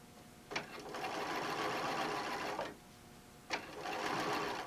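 A sewing machine stitches through vinyl in two sustained, evenly buzzing runs, each starting with a sharp mechanical clack and separated by a short pause, heard close and alone.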